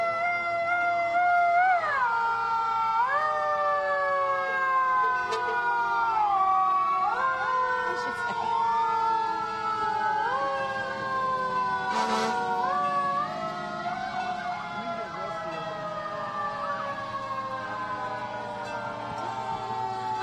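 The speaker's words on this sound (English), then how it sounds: "We don't know if you can hear us over all of the sirens from the fire department" Several fire department sirens wail and sweep in overlapping rising and falling tones at the 2012 Veterans Day parade in Birmingham, Alabama, loud and continuous throughout with crowd noise underneath.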